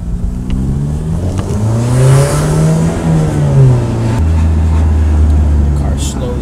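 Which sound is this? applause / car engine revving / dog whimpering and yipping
car engine revving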